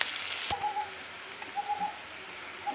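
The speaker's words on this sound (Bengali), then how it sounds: "পেঁয়াজগুলো তো লাল লাল করে ভেজে নেব" Onions frying in a pan for hilsa fish bhuna with taro: a steady, rain-like crackling sizzle with a soft knock early on and faint chirping pops scattered throughout, close and without speech.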